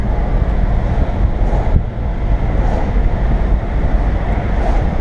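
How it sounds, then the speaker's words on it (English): Strong outdoor wind buffets the microphone in a steady, loud rush of noise that persists for the whole stretch, with no talking. "Feel that wind, boys."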